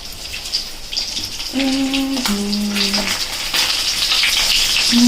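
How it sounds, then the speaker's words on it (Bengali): Hilsa fish frying in oil gives a steady crackling hiss that grows louder, while a few brief tonal hums rise over the sizzle partway through. "মাছটা ভাজতে দিয়ে এলাম মাছ ভাজবো ইলিশ মাছ ভাজা"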